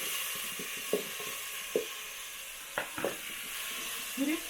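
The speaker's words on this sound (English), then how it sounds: "And then we stir" Onions and tomatoes frying in a pot in an African village kitchen, with a steady sizzle under a few distinct scraping knocks of a spoon stirring.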